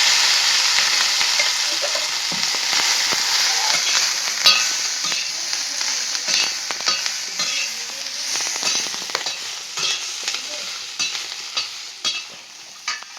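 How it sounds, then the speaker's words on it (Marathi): Green chillies fry in a little oil on a hot griddle, giving a steady close sizzle with crackling pops and stirring scrapes throughout, no voices. "तवा चांगला गरम झालाय मिरची टाकून त्यात मी मस्त अशी तळून घेणार आहे थोडस तेल टाकून घेणार आहे"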